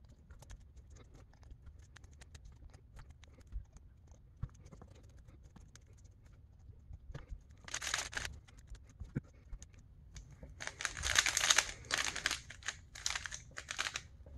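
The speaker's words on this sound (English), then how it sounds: "I'll just go around the cube a few times until they are all even." A HuaMeng YS3M speed cube being turned to even out tensions gives quiet close clicks, then bursts of rapid clattering turns in the second half.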